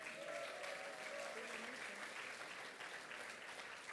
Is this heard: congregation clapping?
yes